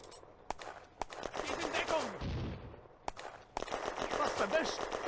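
Gunfire in the Firefight video game, Eastern Front battle: dense rapid bursts of automatic fire with a few sharp single cracks, sustained and loud with a rumbling blast in the middle.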